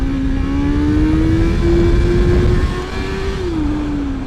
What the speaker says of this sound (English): Let me just quickly do a wheelie here.